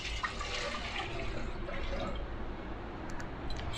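Water poured into a wide cooking pot while making kolukattai payasam, about 1.5 litres from a one-litre vessel, a steady broadband splashing rush that runs continuously at moderate level throughout with no talking.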